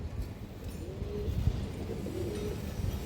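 Pigeons on a farm softly cooing while a hen pigeon is held up by hand, the low coos rising briefly and fading over a steady background murmur, with no talking.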